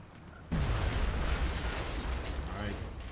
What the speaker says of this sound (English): this is where we're going to throw a grenade right now